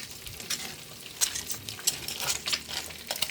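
A spoon scrapes and stirs vegetables in coconut milk in a sizzling pan, bursts of stirring over a steady hiss of frying, close and moderately loud.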